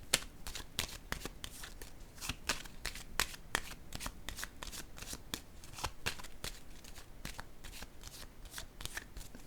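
Tarot cards shuffled and laid out, a rapid run of crisp riffling flicks and soft slaps close to the microphone, quiet and evenly repeated throughout without talk.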